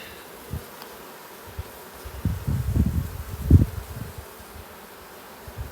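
Honey bees buzzing in a nucleus hive, up close: a low droning hum with brief wingbeat bursts that swell into a dense, louder cluster of buzzing midway before fading back to a faint hum.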